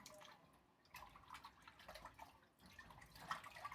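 Water dripping weakly from a household tap on a quiet Sunday morning, faint, soft irregular splashes and trickles in a still room.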